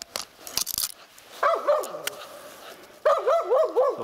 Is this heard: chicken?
no